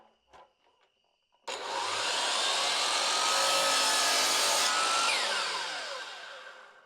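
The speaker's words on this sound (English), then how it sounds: "when we turn on the miter saw, we have to supply power to the dust collector in addition to the saw" A miter saw starts abruptly with a dust collector running alongside it, giving a loud, steady broadband roar that holds for several seconds, then begins to taper off. A few faint knocks come just before it starts.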